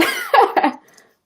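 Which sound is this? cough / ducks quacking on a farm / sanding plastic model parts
cough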